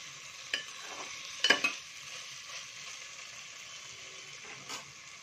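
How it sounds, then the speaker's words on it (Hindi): Potato sabzi cooking in an uncovered pan, stirred a few times: a soft continuous sizzle with a couple of brief scrapes and clinks, close and fairly quiet, no voices. "अब मैंने इसका ढक्कन खोल के थोड़ा मैं इसको चला लेती हूँ"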